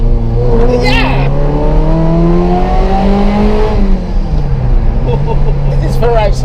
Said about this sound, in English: This is Ferrari sound.